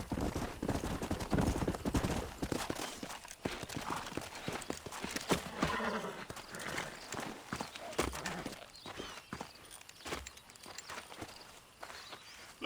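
Horses' hooves clip-clop in the Red Dead Redemption video game, a steady walking rhythm that stands out near the start and then mixes with dense game sounds, gunfire and voices talking.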